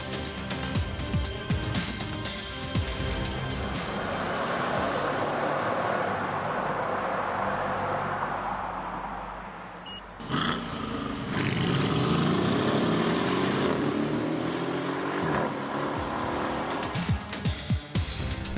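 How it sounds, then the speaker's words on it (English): A Brabus B63S Mercedes GL SUV with a stainless steel sports exhaust roars loudly as it accelerates and passes close by, engine note swelling and dipping, with tire squeal and a second powerful surge of revs. "there is a stainless steel sports exhaust with flat pump control, which one can set loud or quiet"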